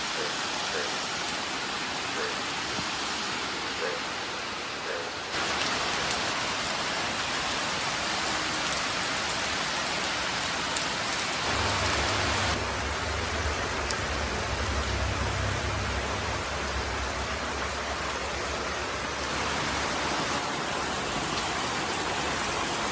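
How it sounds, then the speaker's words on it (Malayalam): Heavy morning rain pours down steadily on a tiled roof as a dense, unbroken hiss, with a low droning hum joining partway through. "രാവിലെ തന്നെ നല്ല മഴ കേട്ടോ."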